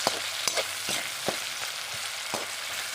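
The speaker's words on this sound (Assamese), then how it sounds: "পিঁয়াজটো এতিয়া ধুনীয়াকৈ ভাজিম" Steady crackling sizzle of onions frying in pork fat, with occasional sharper pops and stirring scrapes, close and continuous.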